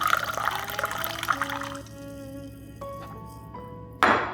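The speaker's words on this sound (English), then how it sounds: "Pour 300 grams into 2 jars." Blended raspberry truffle cocktail base with flat champagne poured into two jars, 300 grams each, for a fat-washing infusion. A steady close pour whose filling tone rises as each jar fills, ending in a brief louder splash.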